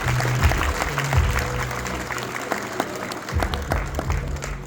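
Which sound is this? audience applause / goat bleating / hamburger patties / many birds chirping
audience applause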